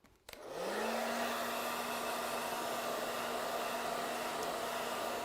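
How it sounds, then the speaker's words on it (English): A hair dryer switches on after a brief click and runs with a steady, loud whirring hum and airy rush that holds constant throughout. "you can always trust the handy hairdryer"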